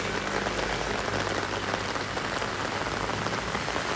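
Continuous rainfall patters and hisses evenly throughout, with a close, dense texture and no voices.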